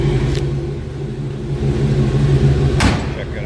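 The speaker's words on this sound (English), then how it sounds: "Check out how nice the door closes there." A 1956 Oldsmobile 88 two-door sedan idles with a deep V8 rumble through a Flowmaster exhaust, then one solid door shuts with a single close thump near the end.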